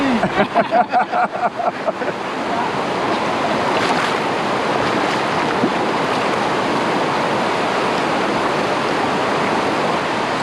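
Loud, continuous roar of a flooded river in spate after Storm Francis on Dartmoor fills the scene, steady and close, after a brief rhythmic opening of fluttering bursts.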